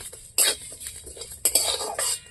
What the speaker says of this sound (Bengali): গোটা মশলা আমি লাল লাল করে ভেজে নেব